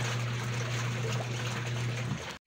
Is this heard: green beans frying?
no